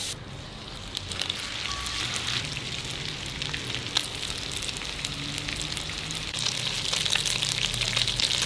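Meatballs fry in butter in a pan, giving a steady close sizzle and crackle with occasional pops and spits throughout.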